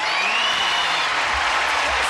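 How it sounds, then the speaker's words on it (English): Studio audience on a 1983 television game show giving a brisk round of applause to greet the stars, a dense loud roar of clapping throughout, with faint voices mixed into it. "you're going to join John and me now in a brisk round of applause as we say, hello, stars"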